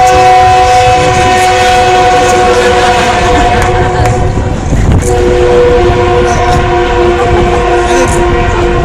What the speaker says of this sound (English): didn't know when I called out Senator Hatch he was going to get the train to agree and blow the horn